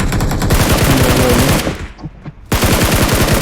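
Rapid automatic rifle fire in PUBG Mobile, loud close bursts of evenly spaced shots, a brief pause, then another sustained burst.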